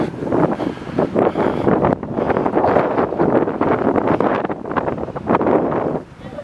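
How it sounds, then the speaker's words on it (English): Gusty wind buffets the microphone on a riverside walk along the River Thames near the Thames Barrier, a loud continuous rushing roar that surges and eases throughout. "Wind is picking up as well."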